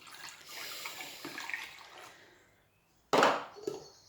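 Water poured from a jug into a small cake tin in a home kitchen, a steady splashing pour that fades out, then a sharp louder burst of liquid hitting the tin near the end, heard up close with no talking.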